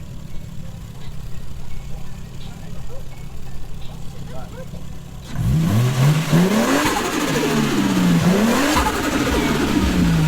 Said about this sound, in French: j'ai entendu un turbo siffler 2 fois